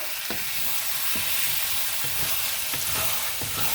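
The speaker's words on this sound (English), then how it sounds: "now, let's stir all that up" Vegan palak spinach curry with Beyond chicken being stirred in a pan, a steady close sizzle broken by repeated spoon scrapes and knocks at a loose rhythm.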